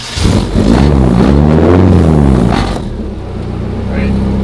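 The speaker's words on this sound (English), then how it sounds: "Start up the car." A car engine cranks and catches, then settles into a rumbling idle, close and loud, with a brief voice partway through.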